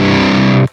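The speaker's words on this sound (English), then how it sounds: "So let's change the distortion." Heavily distorted electric guitar through a Line 6 POD Express pedal's distortion setting, a single thick sustained chord ringing loud and saturated before cutting off abruptly.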